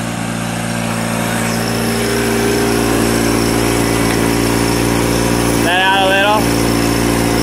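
A Satoh S650G tractor engine runs steadily and loudly close by, a constant droning hum throughout, while a person speaks briefly over it.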